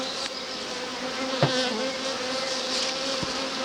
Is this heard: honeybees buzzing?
yes